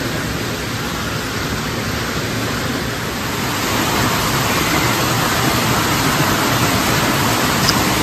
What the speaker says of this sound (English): There's just this random waterfall in the smack dab middle of this store.